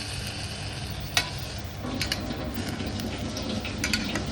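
Vegetable bhaji being stirred in a pan, a steady soft sizzle with scattered scraping clicks and one sharper knock of the spoon against the pan.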